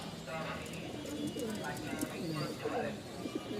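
Soft, low cooing from pigeons rolls on steadily in the background while faint voices and a busy ambient hum carry on around it at a pigeon sale.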